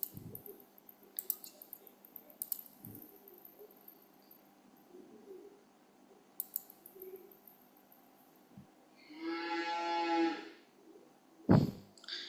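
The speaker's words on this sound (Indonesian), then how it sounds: "Ada sapi." A cow gives a single drawn-out moo near the end, fairly clear against a quiet background of scattered clicks and faint knocks.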